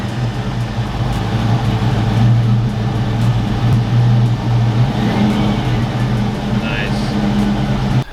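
A Foxbody car engine idling while it warms up, a steady low hum that runs without pause the whole time, with someone talking over it.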